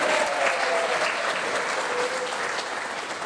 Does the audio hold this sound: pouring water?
no